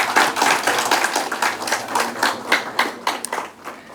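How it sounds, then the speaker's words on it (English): Round of applause from an audience at a college event, loud and rhythmic with distinct claps, swelling early and tapering off toward the end. "Can I have your round of applause,"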